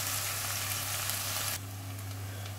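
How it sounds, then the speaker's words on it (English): Eggplant (aubergine) pieces frying in oil for a vegan curry, a dense steady sizzle close up that drops abruptly to a quieter hiss partway through, with a low hum underneath. "I'm just going to fry these down for about 5 to 6 minutes"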